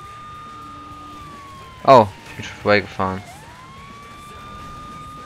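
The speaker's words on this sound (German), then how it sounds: "ich kann man hier eine Sirene anmachen" A police car siren in the open-world game Saints Row The Third sounds as a steady electronic tone that dips and rises again, running throughout under someone talking.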